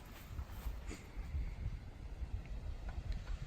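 Strong, steady wind buffets the microphone at an outdoor duck hunting spot near water, a continuous low rumble with gusty surges and no voices.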